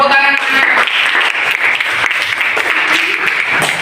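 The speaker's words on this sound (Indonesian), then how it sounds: "Bagus, tepuk tangan." Students in an Islamic religious education classroom clap together after a brief voice, a close, loud flurry of uneven hand claps with murmured talk mixed in beneath.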